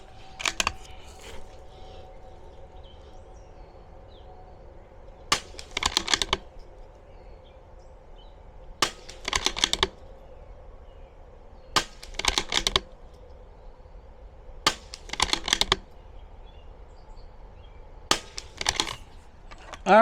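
Five rifle shots fired at a range for a tight group, each a sharp crack with a short rattling tail, spaced about three seconds apart over steady outdoor background noise.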